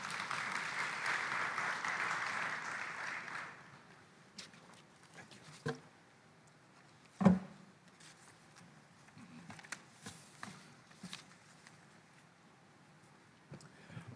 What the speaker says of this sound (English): let us put another round of applause to the President of COMESA